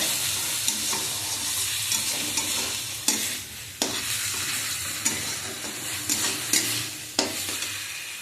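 Fried moong dal sautéed with spice paste in a pan, a close steady sizzle broken by repeated scraping and clicking strokes of a spatula stirring the mixture.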